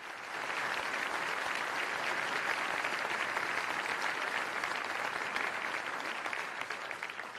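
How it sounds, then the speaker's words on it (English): An audience at the 2019 Orange County Regional Economic Summit applauds in a dense, sustained wash of clapping that stays steady and full throughout, with no voices over it. "A round of applause. Now you can clap."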